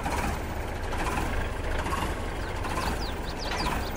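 Tractor engine in Farming Simulator 22, a steady low rumbling drone holding at an even loudness throughout, with faint chirping sounds in the background toward the end.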